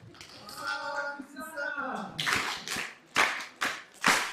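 A speaker's voice at a national political retreat gives way to a small audience clapping in a few short, scattered bursts, each fading before the next.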